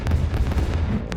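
In the Stick Fight video game, a rocket gun fires and its rockets explode in a dense, loud burst of booming blasts, with sharper cracks among them over a short stretch.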